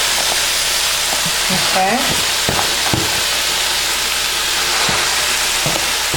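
Collard greens, sukuma wiki, packed into a hot pot give a loud, constant sizzle and hiss with occasional stirring knocks, while a voice speaks briefly underneath.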